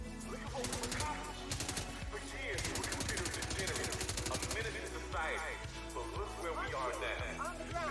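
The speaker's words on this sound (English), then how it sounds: "See if we can find some more enemies here and use bigger guns." Gunfire from a shooter video game streamed on GeForce Now comes in loud, rapid automatic bursts mixed with dense game effects, with brief pauses between volleys.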